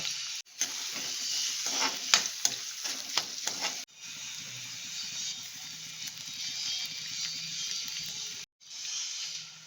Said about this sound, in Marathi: मित्रांनो तेल टाकलाय कांदा ठेवलाय कांदा आता चांगला परतून घ्या